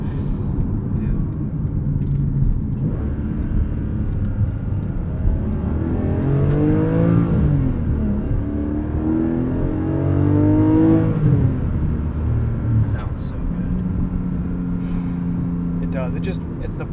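A Porsche Cayman, either a 2021 718 Cayman GTS 4.0 or an original 987 Cayman S, revs hard through the gears with rising and falling engine tones, heard from inside the car under steady road noise while people talk.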